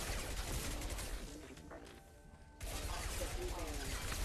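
Dense, loud gunfire in the Mass Effect 2 Arrival DLC, with bursts of shots and crashes filling most of the stretch, a brief quieter lull in the middle before the barrage resumes.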